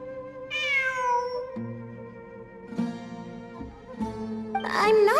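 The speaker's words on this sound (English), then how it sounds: "I'm not hearing things. It really is a cat." A cat in the video game Genshin Impact meows several times: a long, drawn-out call near the start, then shorter calls, ending in a louder, wavering meow. The calls sound close and clear over a steady tonal game background.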